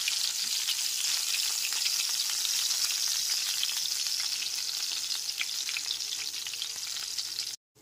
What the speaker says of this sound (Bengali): গ্যাসের ফ্লেমটা লো টু মিডিয়ামে রেখে বেগুনগুলোকে লাল করে ভেজে নিতে হবে